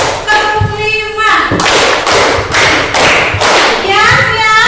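A group claps together in a counting game, delivering five rapid, loud, evenly spaced claps right up close, with a voice calling the count just before and chatter resuming after.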